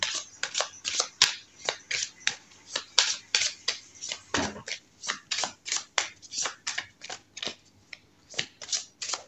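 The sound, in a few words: shuffling oracle cards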